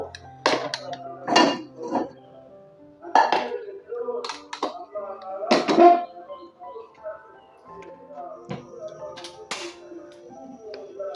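A pot of marinated beef for dopiaza is set on a kitchen stove with scattered metallic clanks and scrapes of cookware, a few louder knocks among quieter clinks, and some talking in between.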